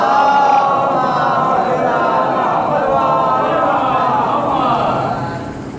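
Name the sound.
crowd loudly chanting salawat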